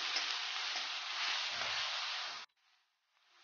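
Onion and garlic paste sizzling loudly in a hot pan, a steady dense frying hiss for over two seconds that cuts off sharply and gives way to a faint, quieter sizzle.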